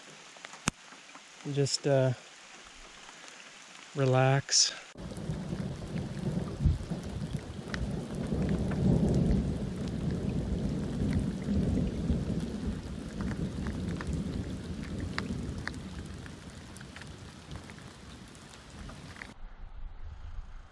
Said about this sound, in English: So it's still raining on and off